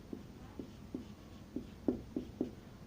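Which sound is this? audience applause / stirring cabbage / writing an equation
writing an equation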